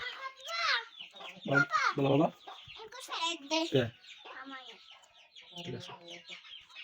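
Chinese ducks on a small duck farm make repeated nasal calls close by, loud bursts coming in quick irregular clusters and then easing off.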